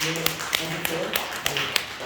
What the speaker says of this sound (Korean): 우리 박수로서 우리 축하하겠습니다